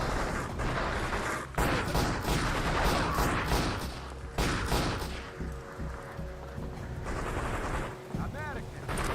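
Bursts of gunfire in the first-person shooter Body Count, with rapid clustered shots around two and four seconds amid windy ambient game noise, later giving way to quieter tonal sounds.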